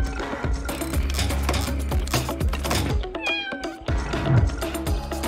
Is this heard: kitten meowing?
yes